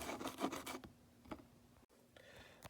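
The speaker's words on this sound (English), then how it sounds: "I just got a metal file, and I'm just going to file that down just a little bit." A metal file rasps against a dashboard part for a 1978 C3 Corvette in a few quick, faint scraping strokes up close, then a short pause and a softer rub.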